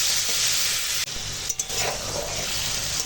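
Plain chicken pieces cooking in a pan with no spices, a continuous loud sizzle and hiss with a brief stir-like scrape partway through, close and without talk.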